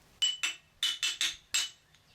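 A big block 427 engine's camshaft gear being tapped loose with a non-hammer tool: six sharp, close metallic clinks in an uneven rhythm, each ringing briefly before quiet.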